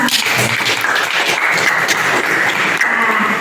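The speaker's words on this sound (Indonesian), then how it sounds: "Kita kasih tepuk tangan untuk kalian semua" A room full of people claps together, a brisk continuous patter of hands at steady volume for a few seconds.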